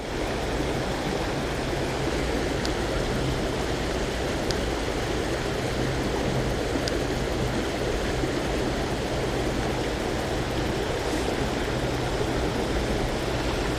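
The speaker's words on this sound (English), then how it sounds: "You can enjoy the river." A woodland river flowing near a bridge: a steady, even wash of rushing water, continuous and moderately distant, with no voices.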